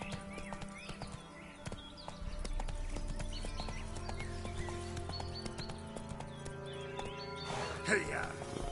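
Horse hooves clip-clop at a steady gait in The Witcher video game, with someone speaking over the rhythmic footfalls and a brief louder burst near the end.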